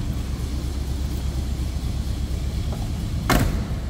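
Heavy door of a 1968 Buick Riviera swings shut with a single short, solid thud near the end, over a steady low idle rumble.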